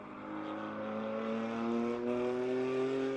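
An Audi GT4 race car works through a lap at Road America during Pirelli GT4 America qualifying, its engine a steady, rising drone heard from a middle distance as revs climb gradually with no voices over it.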